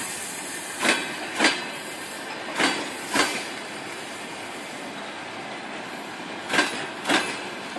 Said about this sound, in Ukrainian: Це їде поїзд із Краснограду. Його тягне маневровий тепловоз.